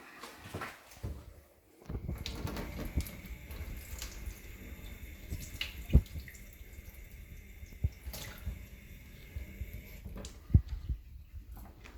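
Water runs from a kitchen sink tap onto water-repellent polyester fabric. It makes a steady splashing patter close by, with a few sharper drips and knocks.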